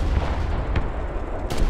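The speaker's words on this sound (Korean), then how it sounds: "포격 지원." Artillery fire support strike in the War Thunder tank game, heard as a dense, heavy low rumble of distant shelling with a couple of brief sharper cracks, no voices.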